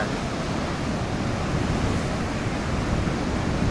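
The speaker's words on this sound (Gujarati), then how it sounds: "સાત સમુદ્ર પારથી આ લહેર આવી રહી છે ઘૂઘવાટા મારે છે" Sea waves roar steadily against the rocky shore at Dwarka, a continuous loud wash of surf with no pause and no voices.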